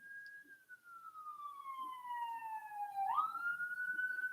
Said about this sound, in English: Now, do you hear any sirens? I do. It's coming this way,